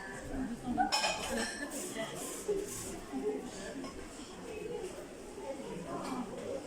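Saucepans in an IKEA store clink and clatter as they are handled, with scattered metallic knocks under nearby talk and busy shop ambience.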